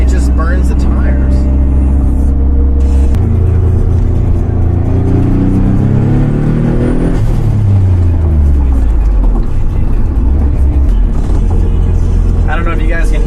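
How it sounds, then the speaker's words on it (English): A turbocharged car engine revs up and settles, its pitch sweeping up and down, with exhaust whooshing and a brief fluttering blow-off valve release, all loud and close. "I don't know if you guys can hear the exhaust and the blow off"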